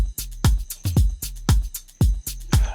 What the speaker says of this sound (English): now you have a very nice drum loop that sounds like this